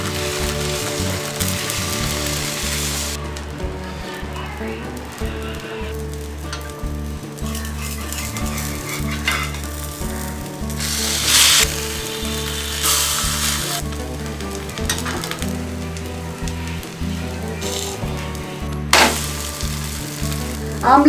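A beaten egg omelette frying in oil in a pan, a steady, close crackling sizzle that continues throughout with faint background tones.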